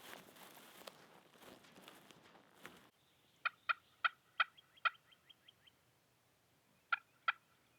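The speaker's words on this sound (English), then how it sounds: "we heard a gobble off in the distance" A wild spring turkey gobbles out in the woods, a rapid rattling burst of calls followed seconds later by a shorter second burst, clear but distant over a quiet background after some rustling footsteps.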